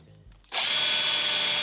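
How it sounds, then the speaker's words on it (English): A handheld drill fitted with a countersink bit spins up after a brief quiet start, then runs as a steady, close, high whine to the end. "Simply just place the countersink into the chuck."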